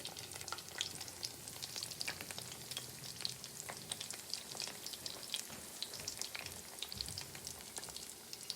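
Cheese-filled pieces fry and brown in a hot pan, giving a quiet, continuous sizzle with scattered crackling pops, no one speaking.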